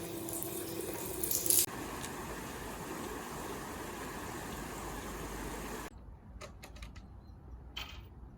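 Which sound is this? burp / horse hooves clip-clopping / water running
water running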